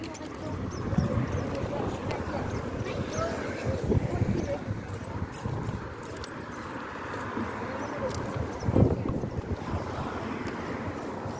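Strong wind gusts across a seaside beach, buffeting the microphone with a steady low roar and faint surf beneath, while people talk over it throughout.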